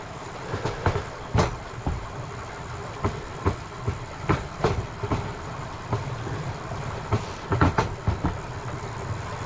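Train running along a railroad in rugged river country, with rhythmic clickety-clack bursts from wheels crossing rail joints repeating every second or so over a steady low rumble, moderately close, no talk.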